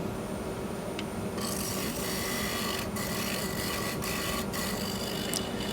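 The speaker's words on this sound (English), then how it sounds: "I'm going to cut that ledge off and then sand it." An osage orange wood bowl being sanded on a lathe gives a steady, close rasping hiss that runs without a break, with no voices.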